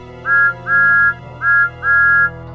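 Four sustained, high-pitched steam engine whistle blasts from the cartoon Thomas & Friends in a row, two short pairs with brief gaps, loud and clear over a low steady hum.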